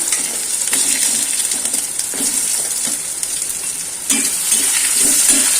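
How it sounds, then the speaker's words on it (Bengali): Potatoes fry in a pan of hot oil, a continuous close sizzle with periodic scraping and stirring strokes of a spatula, louder after a fresh stir near the end. "আলুটা আগে দিয়ে একটু ভেজে নেবো"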